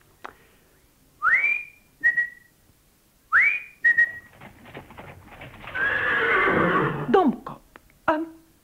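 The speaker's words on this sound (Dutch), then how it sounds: "Domkop, een paard." A horse whinnies loudly several times, each call rising into a sharp whistle-like squeal, with a breathy snort midway and hoof clip-clop in the background.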